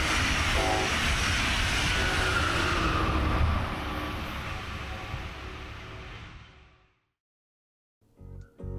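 A Brightline passenger train in the Princess Cruise Line wrap passes south across a street crossing, a loud, close roar of wheels and rumble that fades away over several seconds before a brief quiet.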